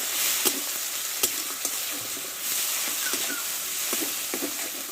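A spice paste with Kashmiri chili powder and ground green chili sautés in oil for a fish curry, giving a soft, steady sizzle with occasional spoon taps and scrapes, fairly quiet and without talk.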